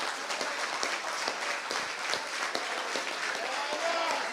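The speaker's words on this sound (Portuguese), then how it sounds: "Você consegue aplaudir ao Senhor pela sua palavra agora?" Church congregation applauding the Lord after a sermon, a broad wash of many hands clapping continuously at moderate distance, with faint voices mixed into the crowd noise.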